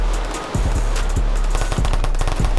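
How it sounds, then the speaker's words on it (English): Rapid gunfire bursts in a Roblox hood roleplay game set in the Bronx, with repeated sharp shots and short automatic volleys that keep going over a steady low background. "Why they shooting? Why they shooting down here?"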